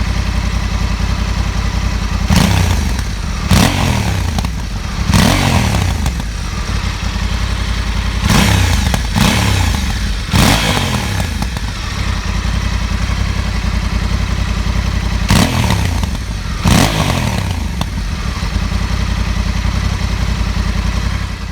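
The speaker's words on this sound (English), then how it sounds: "Next, very important bit, the sound of engine noise." Motorcycle engine, a Honda CRF1100 Africa Twin or a Triumph Tiger 900 GT Pro, idling steadily with about seven sharp throttle blips that rise and fall in quick succession, loud and close, with no voices.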